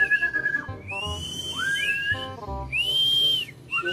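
Loud, clear human whistling in several sliding, rising and falling notes with short pauses between phrases, close to the listener.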